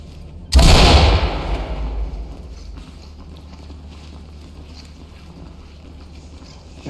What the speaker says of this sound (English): Open and clear with flashbangs.